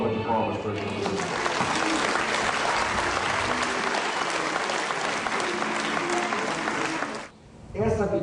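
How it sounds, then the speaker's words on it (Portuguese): A motivational-talk audience breaks into loud, dense applause that holds steady for about seven seconds, then cuts off abruptly before a voice resumes. "Vamos fazer uma salva de palmas para a gente."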